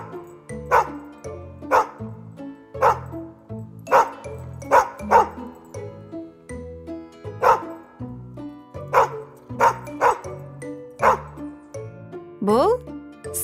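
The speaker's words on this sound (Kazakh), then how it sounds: "Бұл ит. Ит. Оф, оф, оф." A dog barking in a steady series of about a dozen sharp, evenly spaced barks, clear and close, with a couple of higher yips near the end.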